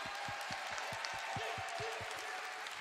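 A church congregation claps in a steady, quick rhythm, sharp hand claps evenly spaced, with a broad wash of crowd noise and cheering underneath.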